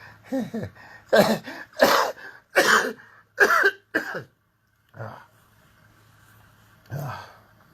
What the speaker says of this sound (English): It started with a cough, and the cough is the one thing that's still there